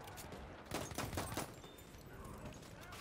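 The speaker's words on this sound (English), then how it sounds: "We'll just use a pistol." Pistol shots fired in the shooter game Battlefield 1, a quick cluster of sharp reports in the middle, then quieter ambient battle noise.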